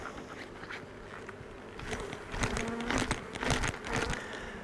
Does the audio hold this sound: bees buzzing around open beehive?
yes